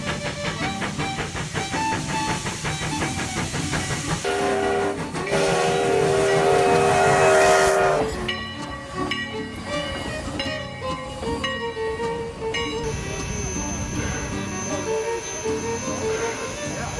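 A classic steam locomotive, Sierra No. 3, working on a film-set railway: continuous chuffing and mechanical clatter with shrill whistle-like tones rising to a loud burst midway, then steady rhythmic running with sustained high tones, close and prominent.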